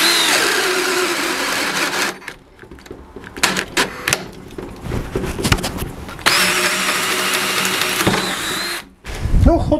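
A cordless drill driver boring a 25 mm hole on first speed, its motor whining in uneven bursts that stop and restart, with brief pauses and rough grinding between runs.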